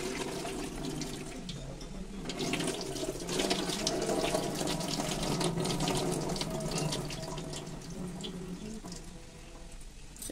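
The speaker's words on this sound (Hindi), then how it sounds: "इस तरीके से दो तीन पानी से इसको धो लेंगे" Tap water runs steadily into a sink, splashing and sloshing as flattened rice (poha) is rinsed under the stream, with no voices.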